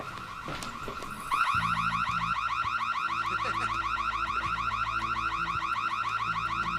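A brand-new home alarm system bought from a shopping channel goes off, starting abruptly and then blaring as a loud, continuous, fast-pulsing electronic wail that dominates everything.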